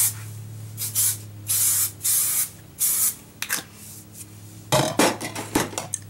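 Hairspray sprayed onto hair styled with hot rollers, a series of short, close aerosol hisses in spaced bursts, then a quicker flurry of sprays with light handling clatter between them.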